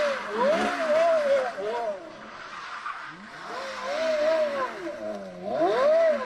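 A Porsche Carrera GT engine revs and shifts through rising, falling pitch sweeps, with tire squeal in places, loud and continuous over about six seconds beneath scattered voices.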